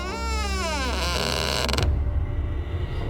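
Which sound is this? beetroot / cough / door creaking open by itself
door creaking open by itself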